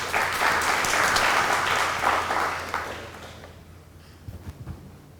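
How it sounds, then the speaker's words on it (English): Applause from a panel discussion audience greets a speaker, a full round of clapping for about three seconds that fades out into a few scattered claps and room noise. "A round of applause for Dr. Divyanshu Verma."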